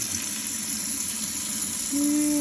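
Water gushes steadily from a kitchen sink faucet after a flow restrictor was removed, a constant broadband rush that swells slightly louder near the end as a tone rises in the pipes.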